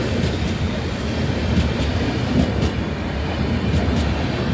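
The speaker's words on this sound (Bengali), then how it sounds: "Howrah Chennai superfast mail WP7 Howrah Chennai superfast mail" At night the Howrah–Chennai Superfast Mail, hauled by a WP7 locomotive, thunders non-stop through a station, a close, continuous heavy rumble with rhythmic wheel clatter and no speech over it.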